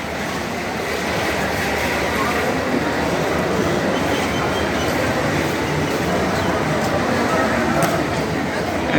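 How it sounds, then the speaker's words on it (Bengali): A train rolls into a railway station platform with a steady, loud rumble and wheel noise that lasts throughout, with no pauses. "এই ওই প্ল্যাটফর্মে একটা ট্রেন ঢুকতেছে গাইস"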